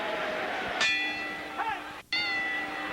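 Boxing ring bell at a heavyweight bout in Landover, Maryland, two sharp metallic rings with lingering overtones heard over crowd murmur in an arena.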